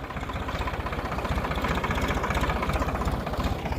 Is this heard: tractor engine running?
yes